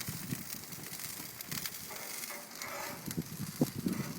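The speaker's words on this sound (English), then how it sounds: "Listen to that bird sizzle." Soft crackling and sizzling of a beer can chicken cooking on a grill, with scattered pops and snaps, fairly quiet and close.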